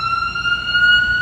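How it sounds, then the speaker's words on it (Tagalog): An ambulance siren passes on a street in Fairview, heard from a garden as a steady, fairly loud wailing tone that rises slightly in pitch, with low traffic rumble beneath. "Ayun, may dumaan na pulis na ambulance. Ay, hindi siya pulis, ambulance sa Fairview."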